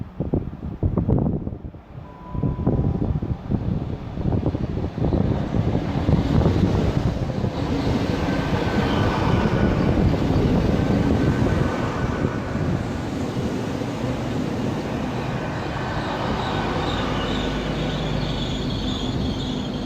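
A Great Western Railway IET train rolls slowly past at Slough station, a long continuous rumble of wheels with squealing tones and some wind buffeting on the microphone, loud and close, with no talk.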